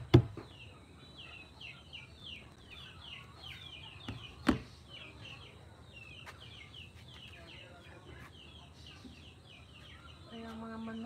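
Chickens waiting to be fed in a village yard cluck and chirp in quick repeated bursts throughout, moderately near, with a couple of sharp knocks and faint background murmur.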